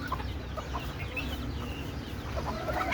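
Parent-stock laying hens on a farm cluck steadily amid a busy background of scattered clucks and soft calls, a continuous, moderately loud flock murmur with no speech.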